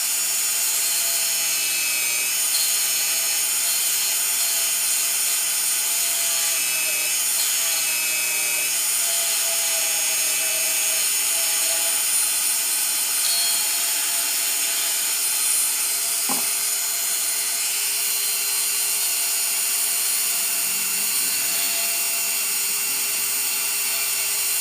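A rotating sanding tool bevels an edge, running as a continuous, steady, loud whir with a faint tonal hum and no pauses or talk.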